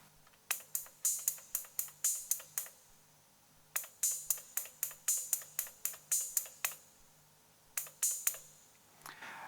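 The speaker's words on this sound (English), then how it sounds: "The intro hi-hat I made with the analog rhythm, and it sounds like this." A hi-hat pattern from an analog rhythm machine plays dry and close in crisp, decaying ticks in regular groups, separated by short gaps over a low hum, with no voices.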